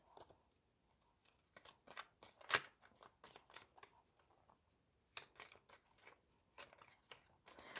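Tarot cards being shuffled by hand in a quiet room: irregular bursts of crisp riffling and slapping, with one sharp snap, separated by short pauses.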